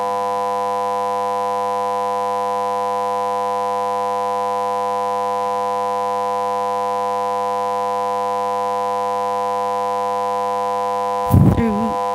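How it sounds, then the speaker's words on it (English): A fire alarm sounds in City Hall as a steady, loud electronic buzzing tone held for many seconds, ending in a short burst of louder noise. "there is an alarm going off in City Hall"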